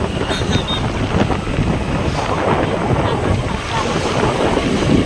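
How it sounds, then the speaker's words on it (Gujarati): Cold wind blows hard and continuously beside a full pond, roaring against the microphone in a dense, unbroken rush. "હે આ ઠંડો પવન તો જો આવે"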